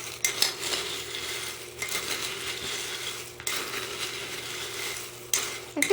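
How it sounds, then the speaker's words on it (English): A spoon scrapes and clinks against a bowl while a homemade rat treat mix is stirred, producing repeated gritty stirring strokes with brief pauses between them, fairly quiet and close. "I'm going to mix it to see"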